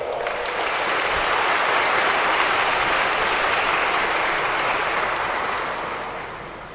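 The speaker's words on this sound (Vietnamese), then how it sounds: "Xin mọi người nổ một tràng pháo tay chào mừng." A church congregation at a thanksgiving Mass bursts into sustained applause welcoming the new assistant priest, a dense even roar of clapping that swells and then slowly tapers off.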